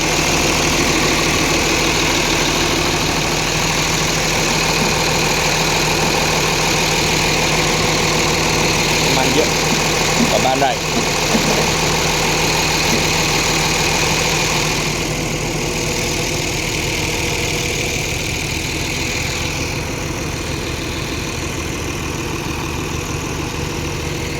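A used car's engine idles steadily at a roadside lot, a constant low hum with faint vibration lasting the whole stretch, close and even, softening slightly toward the end.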